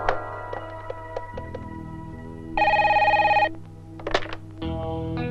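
A telephone rings in a Hindi film scene, a loud electronic ring lasting about a second over a steady musical background, with a few short sharp knocks before and after.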